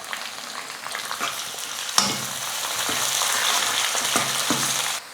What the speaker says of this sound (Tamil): வெங்காயம் சேர்த்துக்கிறேன். கருவேப்பிலை கொஞ்சம்.